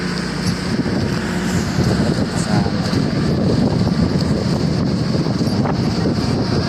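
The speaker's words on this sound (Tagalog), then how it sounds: "Alon-alon na mga idol." Waves washing against a pier under strong wind, a constant roar of gusts buffeting the microphone over the churn of water, with no talking.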